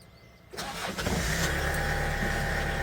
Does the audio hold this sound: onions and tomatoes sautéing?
no